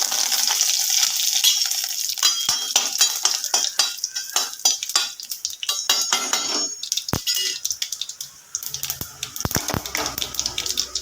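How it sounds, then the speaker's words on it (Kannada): Mustard seeds splutter in about two spoons of hot oil in a pan for tempering, giving sharp crackling pops alongside sizzling and metal spoon clinks against the pan. "ಸಾಸಿವೆ ಸಿಡಿಲಿಕ್ಕೆ ಪ್ರಾರಂಭ ಆಯಿತು"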